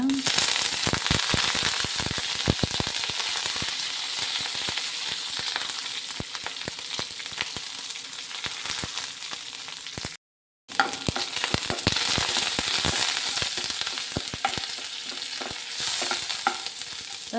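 Curry leaves hit hot oil with mustard seeds and urad dal for a tempering, a loud dense sizzle with rapid popping crackles throughout, briefly cutting out near the middle before the crackling resumes close by.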